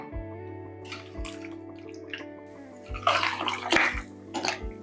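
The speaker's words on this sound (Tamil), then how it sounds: "இப்போ வந்து நம்ம என்ன பண்ணலாம், தேவையான அளவுக்கு தண்ணி ஊற்றிக்கலாம்." Water poured into chicken gravy in a pressure cooker pot, a soft continuous trickle and splash that grows louder partway through, over a low steady hum from the kitchen.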